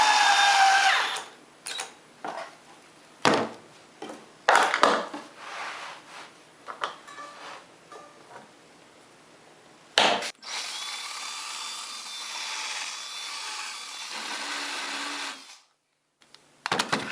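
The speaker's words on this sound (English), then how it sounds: "I'm drilling some holes in this top frame" A power drill whirs in several bursts, drilling holes in a wooden TV stand frame, starting and stopping, with a long steady run near the end and brief pauses between.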